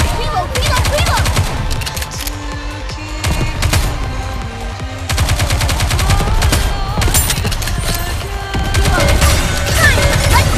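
Dense rapid gunfire from Goddess of Victory NIKKE rattles almost without pause, loud and close, in long automatic bursts with short gaps and a few brief musical notes between volleys.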